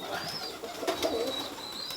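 A brief stretch of tippler pigeon cooing, soft low calls close by, with a thin whistle-like bird call drifting above and steady ambient flock noise.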